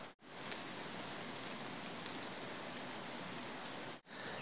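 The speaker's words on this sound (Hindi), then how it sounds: "बारिश स्टार्ट हो चुकी है हद से ज़्यादा" Heavy rain pours down in the Himalayas, in the highland home of the Himalayan tahr: a steady, dense hiss of falling water that fills the scene evenly, broken only by two very brief dropouts.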